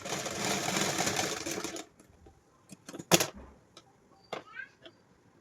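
A sewing machine stitching a pant seam runs in a steady whirring burst for nearly two seconds, then stops, followed by scattered clicks, fabric handling and quiet room sounds.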